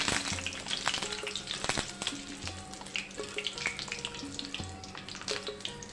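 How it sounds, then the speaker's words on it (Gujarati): Curry leaves sizzling in hot oil in a home kitchen pan while making farali chevdo, just after peanuts were fried, a steady close crackle with scattered sharp pops and faint clinks, and no talking. "મીઠા લીમડાના પાન લીધેલા છે, તેને પણ આપણે થોડા તળી લઈશું।"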